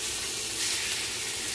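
Beef for tacos frying in hot oil just after going into the pan, a close, steady sizzle and crackle heard alone.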